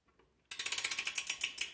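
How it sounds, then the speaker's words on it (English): A cheap Harbor Freight torque wrench tightens a part on a Lectric XP e-bike, giving a quick run of about fifteen sharp, close metallic clicks at an even, rapid pace after a moment of near silence. "it should give a click when it's tightened"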